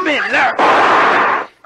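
A single loud, close pistol shot bursts out as a long harsh blast, right after a shouted voice, in a tense scuffle.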